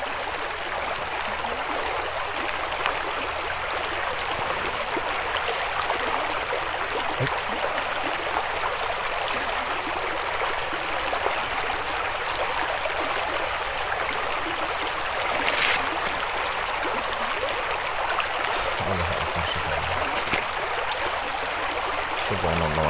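A river flows where three streams meet, a steady broadband rush of water that runs continuously and fairly loud throughout, with no break in the flow.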